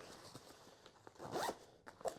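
A zipper is pulled closed on a Maxpedition Keystone Versipack bag: close, quick rasping runs of the slider, with short pauses between pulls.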